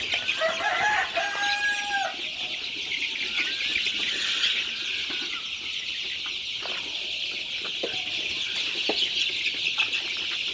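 Dense, continuous high peeping of many nineteen-day-old Sonali hybrid chicken chicks together, with a few louder chirps near the start, steady throughout with no talk.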